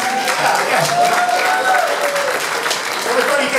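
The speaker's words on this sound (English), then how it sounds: "Everybody get a round of applause for that" Audience applause at a Barnes & Noble book release Q&A in New York with an Aerosmith guitarist, loud sustained clapping from a crowd filling the room, with voices mixed in.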